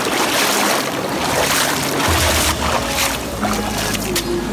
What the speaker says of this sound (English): I'm about 20 metres into the trail, and you got to cross this water